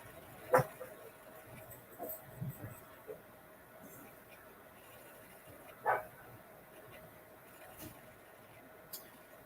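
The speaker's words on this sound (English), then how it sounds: "Dogs are more than happy to start barking in the background while we wait." Dogs barking somewhere in the background of a quiet indoor room, two or three distant, faint barks spaced several seconds apart over low ambient hiss.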